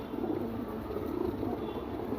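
Domestic pigeons of a bred line coo steadily in a loft, a soft, continuous low murmur that runs the whole time without a break, fairly quiet and with no talking.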